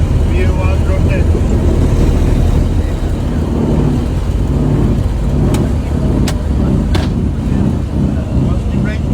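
A Boeing 737-800 rolls down the runway and lifts off, heard from the cockpit as a loud continuous engine roar and rumble, with pilots calling out over it and a few sharp clicks later.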